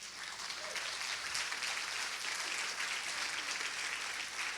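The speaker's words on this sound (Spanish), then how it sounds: "Si vas a aplaudirle, apláudale a Él." A church congregation at a Sunday sermon applauding, steady sustained clapping from a large crowd filling the room, heard alone without talk.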